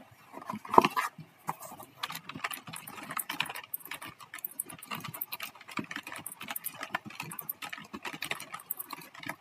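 Fingers type assembly-language code on a computer keyboard, a steady, close patter of key presses with irregular bursts and short pauses over several seconds, with no talking.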